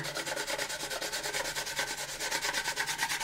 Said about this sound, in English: Just go with the weight of the sandpaper.